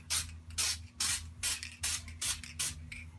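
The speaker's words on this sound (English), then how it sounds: "now I'm going to finish off with this marbleizing spray" Seven short hissing bursts from a marbleizing spray paint can in a steady rhythm, close by, with brief quiet gaps and a low hum underneath.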